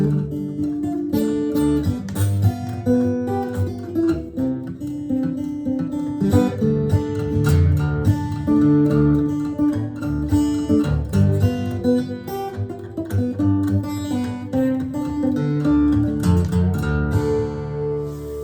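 Strummed acoustic guitar chords in double drop D tuning on a Furch Pioneer ring out with deep, low open strings, played alone at a moderate level with a steady, flowing rhythm.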